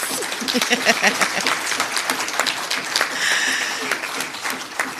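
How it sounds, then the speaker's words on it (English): A round of applause from the audience at a public sector debate competition, honouring the four top teams: steady, dense clapping that carries on for about five seconds, with some voices mixed in. "let's have a round of applause for the 4 top teams"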